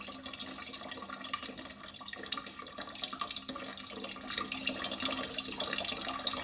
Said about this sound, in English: build a replica of one of his earliest water clocks